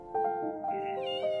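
A rescued homeless kitten, its fur coated in tar, mews at a veterinary clinic, giving a couple of short, close, rising meows.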